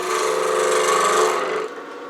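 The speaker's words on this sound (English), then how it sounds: "I'm going to go ahead and turn it like I would cross grain" A cherry burl pot box being turned cross grain on a lathe, a steady loud scraping whir of the tool cutting wood that drops off near the end, with no voices.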